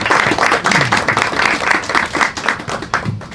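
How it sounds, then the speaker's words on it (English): An audience applauds for the team behind a community film-screening discussion at Howard, a steady, moderately loud patter of many hands clapping at close range with no voices over it. "let's clap it up for them as well"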